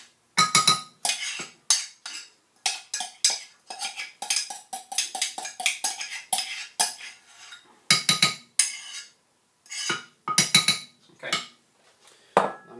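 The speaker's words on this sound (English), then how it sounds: "Mix all that together in the bowl till it's all quite creamy." A spoon scrapes and clinks against a bowl while almond butter is stirred and mixed until creamy, a quick run of sharp taps and scrapes in bursts with short pauses, close and clear with no talking.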